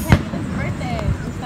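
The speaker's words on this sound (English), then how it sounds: "Why is there so much fireworks?" Fireworks burst over Niagara Falls on Canada Day: a sharp nearby bang, then another dull boom a second later, with people talking around them.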